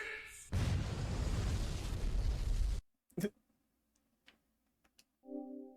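An explosion in the video game OneShot: a loud sustained rumbling blast that cuts off abruptly, followed by a sharp thud, faint ticks and a short tonal chime.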